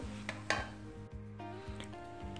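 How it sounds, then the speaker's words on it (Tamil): Cashews and raisins frying in ghee in a pan, with a soft continuous sizzle, a few sharp clinks of a spoon against the metal, and stirring scrapes; no one speaks. "திராட்சையும் வறுத்து எடுத்துடலாம்"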